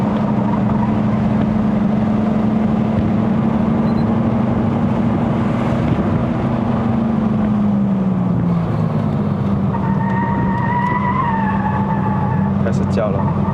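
A MK3 Ford Focus 2.0L Sport+ engine drones steadily from inside the cabin on a mountain road run to Genting in Malaysia, its pitch sagging slightly before a thinner whine rises, with people talking throughout.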